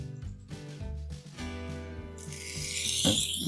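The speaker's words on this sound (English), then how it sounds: "you're going to want to take your blade and you're going to want to push it along your stone" A knife blade is pushed along a sharpening stone, producing a steady gritty rasp that grows louder and brighter over the last second, over a tonal musical background.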